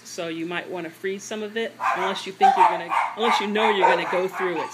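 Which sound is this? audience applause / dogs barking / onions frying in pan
dogs barking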